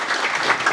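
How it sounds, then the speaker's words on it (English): Audience applause for a panel of four at a sport careers event, a brief dense burst of clapping, steady and fairly loud. "Can we please give a round of applause to our 4"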